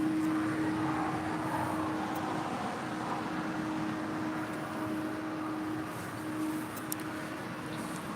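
A United Airlines Boeing 777-200ER arriving from Newark comes in to land at LAX, its engines producing a continuous moderate roar with a steady low drone and no talk.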